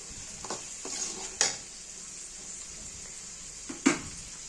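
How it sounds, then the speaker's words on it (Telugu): Onions frying in a pan until reddish, a quiet continuous sizzle punctuated by a few sharp scraping clicks of a spatula stirring against the pan. "రెడ్డిష్గా కొంచెం వేయించుకోవాలి ఉల్లిగడ్డలు"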